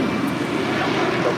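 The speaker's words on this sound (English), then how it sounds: "This is United Airlines 1069 taking off to Chicago O'Hare on a MAX 9" At LAX, a United Airlines Boeing 737 MAX 9 bound for Chicago O'Hare roars loudly and steadily on its takeoff run, a dense, close engine noise holding for the brief moment with no voices.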